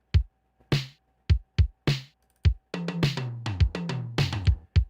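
Synthwave drum pattern fed from the drum bus through gated reverb: sparse punchy hits give way to a busier run, each strike with a bright burst of reverb cut off abruptly, loud and close.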